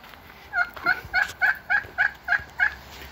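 A backyard turkey gobbles in a quick rhythmic run of about eight sharp, evenly spaced calls, close and loud with nothing else competing.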